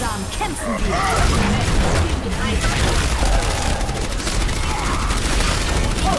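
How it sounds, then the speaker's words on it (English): A turret fires relentlessly in a video game match at Eichenwalde, a dense continuous roar of rapid shots and impacts throughout, with voices talking over the din. "Yeah, that turret's firing."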